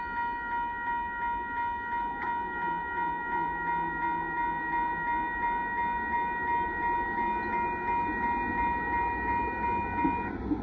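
A CSX mixed freight train rumbles steadily past at moderate distance at a road crossing, with sustained horn tones held throughout and a rhythmic clatter of wheels underneath.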